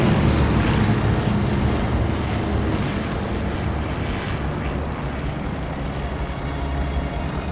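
Propeller airplane engine droning loudly and steadily in Call of Duty Vanguard, a continuous close roar filling the scene with no talk over it.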